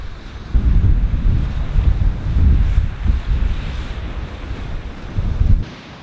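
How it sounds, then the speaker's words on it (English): Strong wind of about 15 knots buffets the microphone at an island campsite, a loud gusting roar that surges and eases in waves with no talk. "It's blowing about 15 knots now"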